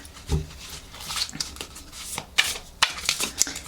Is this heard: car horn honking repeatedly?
no